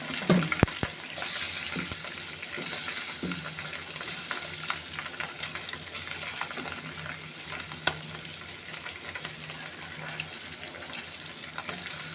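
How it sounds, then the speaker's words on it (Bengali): Small puti fish rubbed with turmeric and salt fry in oil in a wok, giving a steady close sizzle with bubbling crackle and a few sharp spatters, with no voices over it. "এবার এই কড়াইতে তেল দিয়েছি এবার আমি মাছগুলো ভেজে নেব"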